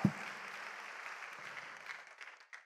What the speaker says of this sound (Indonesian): Tepuk tangan buat One Vision Bapak Ibu sekalian.